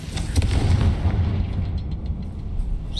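Confringo fire spell in Hogwarts Legacy, a deep rumbling boom that rolls out and fades over a few seconds, loud and low with no voices.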